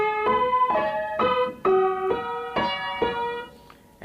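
Piano playing the first part of a song, a steady series of about eight struck chords, each ringing briefly before the next, close and clear.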